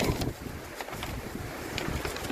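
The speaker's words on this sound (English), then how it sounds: "Very windy today." Gusty wind buffeting the microphone outdoors at the Fuller Covered Bridge, an 1890 wooden bridge, a steady rushing roar with rumbling low-end thumps, moderately loud and without talk.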